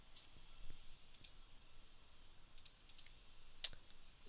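A computer mouse clicks softly a few times, quiet isolated taps spread out with a slightly sharper click near the end, alone in a quiet room.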